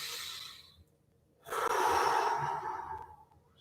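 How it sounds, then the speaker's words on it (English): Deep breathing during an office yoga session: a long, soft breath, then after a pause a louder, fuller exhale that swells and slowly fades, close and alone. "Breathing deep as you do. Don't forget to breathe."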